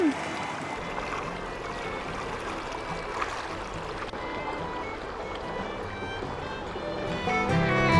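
A small stream flows steadily at Bo Kluea in Nan, Thailand: a continuous soft rushing trickle of moderate loudness, with faint outdoor background sounds throughout.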